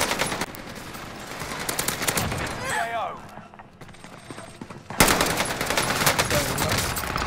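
Rapid automatic gunfire in Call of Duty Modern Warfare multiplayer, with dense repeated bursts that pause briefly and then resume loudly, close and continuous, mixed with game effects and a voice talking over the shooting.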